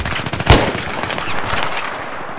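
Rapid automatic gunfire from a recon rifle in Battlefield 3, a dense burst of shots with a sharp loud crack near the start, continuing as a steady rattling stream over game background noise.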